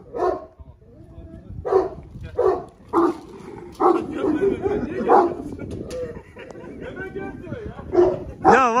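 A chained dog's short sharp barks and yelps break out in repeated bursts, close by and loud, mixed in with people talking and laughing nearby.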